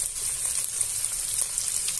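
Calabresa sausage and bacon frying together in bacon fat in a pan, a steady dense sizzle with faint crackles and stirring, close and continuous, no talk.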